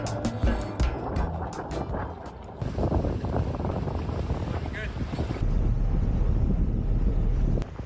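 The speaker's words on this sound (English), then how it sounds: "Wonderful sailing conditions as we head on a close reach." A sailboat on a close reach as it leaves the North Sound, with steady wind buffeting the microphone and water rushing along the hull, loud and continuous throughout.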